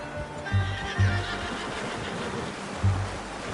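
A horse in the Red Dead Redemption 2 video game snorts and neighs in short, repeated bursts over steady outdoor ambience, with some faint hoof movement and no talk.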